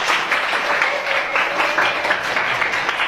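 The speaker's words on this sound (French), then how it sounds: "Applaudissez-le d'abord." A classroom of pupils applauds a classmate after a French vocabulary exercise, with dense, steady clapping at fairly close range throughout.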